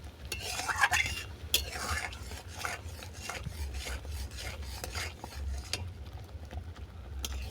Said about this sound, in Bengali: সুজি দেওয়ার সঙ্গে সঙ্গে ক্রমাগত নাড়তে হবে তা না হলে এটা দোলা পাকিয়ে যাবে